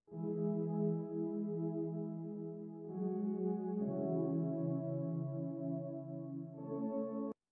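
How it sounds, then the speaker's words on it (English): Saw-based synth chords run through a filter and drenched in reverb, playing sustained, smooth pads that change chord three times, steady and fairly loud, with no voices before cutting off abruptly. "So right here is a synth. It's saw based and it has a filter on it and lots of reverb"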